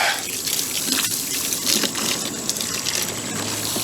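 A water hose runs steadily as black diamond coal aquarium sand is rinsed out, giving a continuous hissing splash and trickle, close up, with no talking.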